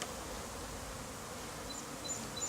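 Honeybees from a package colony buzzing steadily outdoors at a nature center demonstration, a soft constant drone with occasional single bees whining past close by.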